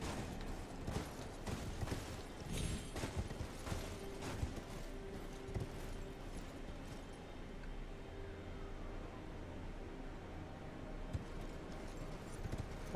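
In the Elden Ring video game, a horse gallops with quick, rhythmic clip-clop hoofbeats, close and steady for most of the stretch before easing off near the end.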